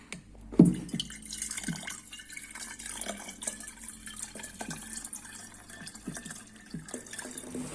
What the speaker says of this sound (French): on met de l'eau pure dans le ballon